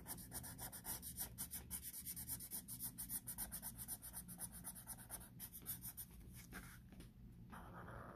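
Pencil coloring in an emoji drawing on paper, a steady close scratching and rubbing of rapid back-and-forth strokes, continuous and fairly quiet with brief pauses near the end.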